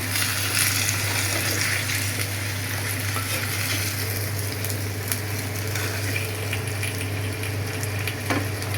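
Rohu fish curry with flat beans, potato and tomato frying in a pan, a steady soft sizzle and bubbling continuing close by without pause, with a few faint utensil clinks and no talking.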